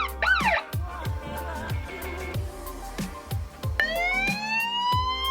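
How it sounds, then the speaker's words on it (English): A brief electronic siren whoop sweeps up and down, then rising wails start, played loud from a phone speaker over a repeating thumping beat. "This is only a short signal."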